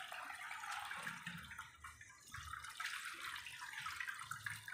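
Water from soaked wheat drains through a strainer in a home kitchen, a soft continuous trickle and splash at low level, fairly close, with no one speaking.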